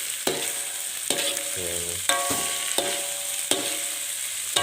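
Rice with bitter melon and small chillies is stir-fried in a pan, giving a steady sizzle broken by repeated scraping strokes of a utensil at a regular pace, close and clear, with a brief spoken word between strokes.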